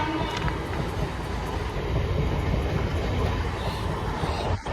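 A morning passenger train bound for Panvel rumbles steadily at close range, a dense continuous roar of wheels and carriages with no voices over it.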